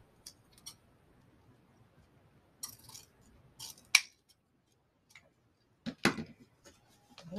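Scissors cut ribbon for a blue and green mesh heart wreath, making a handful of sharp, close snips and small clicks scattered through an otherwise quiet room.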